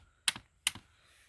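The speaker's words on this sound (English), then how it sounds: "you can hear my daughter in the background playing away with the letterboard now" A Magnatab magnetic letter board toy being played with in the background, giving two short, crisp clicking bursts about 0.4 seconds apart, each with a softer follow-up click, in an otherwise quiet room.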